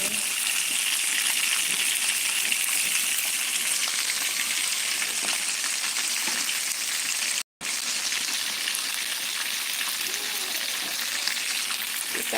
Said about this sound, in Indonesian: kita goreng ayam teman-teman.